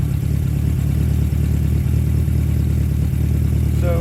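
A 1977 Honda CB750A Hondamatic motorcycle idles low and steady after a restart, its engine tuned down for mixture adjustment, producing a loud, even chugging throb with a faint mechanical clatter and no talk.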